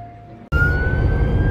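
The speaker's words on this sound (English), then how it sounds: "You can hear the siren." An emergency vehicle siren wails with a steady rising tone, loud and near, over heavy engine rumble after an abrupt cut from a quieter scene.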